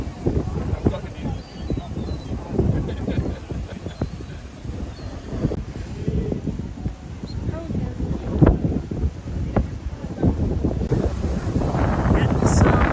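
Strong wind at a cruise line's private island beach on a chilly day, buffeting the microphone in loud, continuous low-frequency rumbles and gusts, with voices talking underneath throughout.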